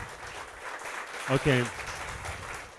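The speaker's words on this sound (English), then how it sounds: "Give her a big clap first." An audience at a talk for React developers applauds a speaker with a steady wash of clapping, and a voice briefly speaks over it.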